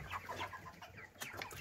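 Hens kept in a distant barn on a small homestead cluck in short, quiet bursts, a few soft calls heard faintly with no talk over them.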